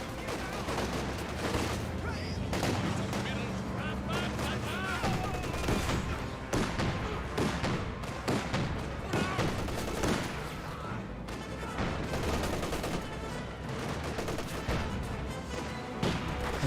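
Battle sounds from the Company of Heroes 2 strategy game: scattered rifle and machine-gun fire mixed with heavier blasts, dense and continuous, with a voice commentating over the combat.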